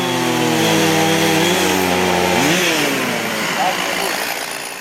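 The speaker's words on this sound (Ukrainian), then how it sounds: "ревіння бензопил перекривало усі негативні емоції тих, хто мусив прибирати" Petrol chainsaws roar loudly during cleanup after a storm in Lutsk, their engines revving up and down in overlapping whines, with a voice talking over them.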